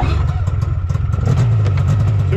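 Yamaha Phazer studded snowmobile engine catching after a pull cord start, loud close rough clattering idle that steadies and rises slightly toward the end.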